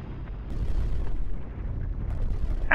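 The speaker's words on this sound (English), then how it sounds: "Oh, I blew up." A rumbling explosion in the space shooter Beat Hazard, a low booming burst that swells and lingers with a crackling tail, fairly loud and alone.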